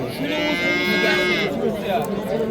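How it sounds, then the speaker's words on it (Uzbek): Young bull calves at a livestock market give a drawn-out lowing call in the first half, fairly close, amid steady crowd noise and people talking. "Ho'kizchalar."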